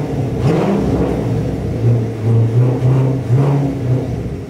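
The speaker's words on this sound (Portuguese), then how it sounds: "Ele nem liga pro barulho do carro" A car engine runs close by, idling with a steady rumble and swelling into a few short revs, loud and alone without talk.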